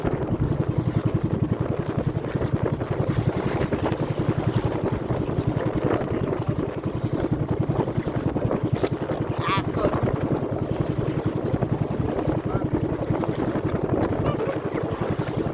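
Boat crossing open sea toward an island, a constant engine drone mixed with wind buffeting the microphone and splashing water, with people talking over it throughout.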